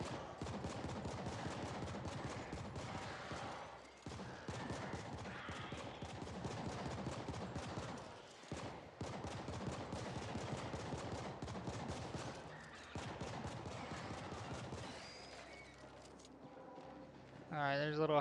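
Gunshots and reloading in the video game The Ascent: sustained rapid weapon fire in long dense bursts with brief pauses, loud and close, while someone talks over the action throughout.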